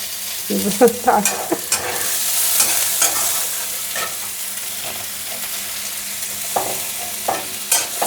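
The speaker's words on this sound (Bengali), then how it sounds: "পেঁয়াজটা একটু ভেজে নিই।" Chopped onion fries in ghee with minced garlic in a pan. A soft, steady sizzle runs under several sharp spoon-scraping and stirring clatters, heard close up with no talking.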